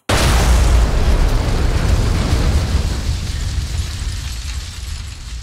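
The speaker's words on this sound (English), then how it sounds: "the bomb went off" A bomb explosion in a comedy noir radio play: a sudden loud blast that bursts in at once, then rumbles and slowly fades.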